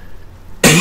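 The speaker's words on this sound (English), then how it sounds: "I might cough quite a bit during this." A single sharp, loud cough bursts in near the end after near silence, close to the microphone.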